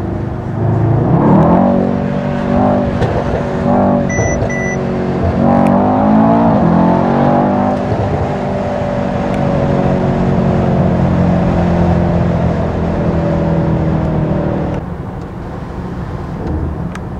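A 2018 Mercedes-AMG E63 S 4MATIC+ accelerating hard, its loud exhaust roaring steadily from inside the car, with engine pitch climbing and dropping through gear changes.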